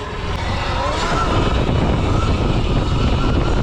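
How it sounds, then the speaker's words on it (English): A Surron electric dirt bike rides a 40 mph wheelie on forest preserve trails, giving a steady, loud rush of wind and motor noise with a faint whine, close and unbroken throughout. "We just did a 40-mile-an-hour wheelie there. This Surron is nuts."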